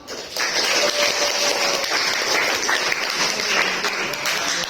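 A classroom of students claps together for a classmate during a lesson, a continuous medium-loud patter of many hands sustained for a few seconds.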